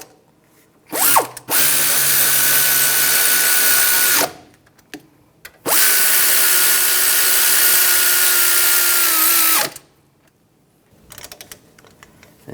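A power tool runs down the wheel hub bolts on an Infiniti FX35 front hub assembly in two loud, sustained, whirring bursts. The pitch drops as each bolt seats, and quieter clicks and handling noises follow.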